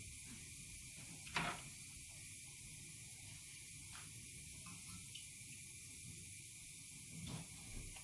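Steady faint hiss of a cinnamon stick, anise seed and cumin frying in hot oil, with a couple of brief louder crackles.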